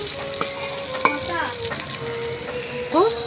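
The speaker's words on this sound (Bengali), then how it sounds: "এর মধ্যে এখন আমি কিন্তু জল দিয়ে দিচ্ছি" Fried chicken curry sizzling in hot oil as water is poured in, with stirring scrapes and clinks of a spoon against the pan over a steady crackling hiss, close and moderately loud.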